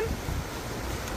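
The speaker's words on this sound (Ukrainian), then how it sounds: "Ось ця річка." The shallow, narrow Brenz river flows through the town of Heidenheim in Germany with a steady broadband rush, mixed with wind buffeting the microphone, and no voices.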